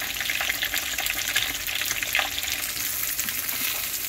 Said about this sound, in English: I'm gonna let these fry until they're golden brown before turning them.